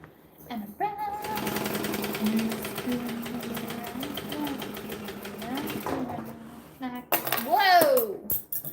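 A sewing machine stitches a bag in one sustained, close run of rapid mechanical chatter. A voice talks and hums over it, and a louder exclamation follows as the stitching stops.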